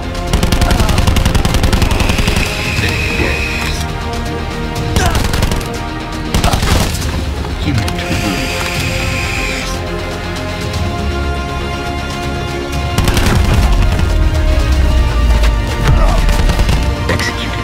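Gunfire in Call of Duty Black Ops 4 played on a PC, loud dense bursts of automatic shots and impacts mixed with game music and effects, continuous and close throughout.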